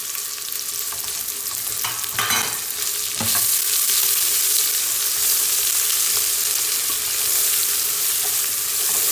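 Whole spices, ginger and green chilies frying in a pan, a close, loud, continuous hiss and sizzle with a few stirring clatters early on.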